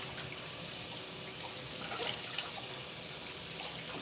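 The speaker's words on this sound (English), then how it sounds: "I feel like I need to rinse this better." Tap water runs steadily into a kitchen sink for rinsing while making Brazilian cheese bread, a soft constant splashing hiss with faint drips, close by and unbroken.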